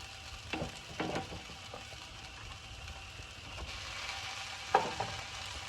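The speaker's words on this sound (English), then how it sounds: "Now you break up the meat in the pan." Minced meat frying in a pan with softened onion and garlic for Mexican stuffed peppers, a quiet steady sizzle with a few louder stirring scrapes and clatters of the spoon breaking up the meat, no talking.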